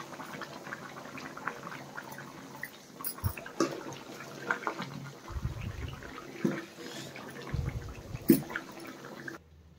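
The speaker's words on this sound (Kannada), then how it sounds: "ನೋಡಿ ನಾವು ಹಾಕಿರೋ ಎಣ್ಣೆಲೆಲ್ಲ ಫುಲ್ಲು ಕ್ಲೀನಾಗಿ ಫ್ರೈ ಆಗಬೇಕಿದು" Tomato thokku frying in oil in a pan over a low flame, with soft bubbling and wet sizzling plus irregular scraping taps from stirring, steady and moderately close with no talk.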